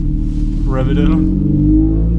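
A modified Honda car engine revs up in one quick rising-and-falling burst over a steady, loud low rumble, heard up close with a background murmur.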